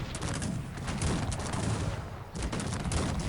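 Dense battlefield gunfire from the video game Cossacks 3, with rapid volleys of musket shots crackling continuously, briefly dipping before another loud burst resumes.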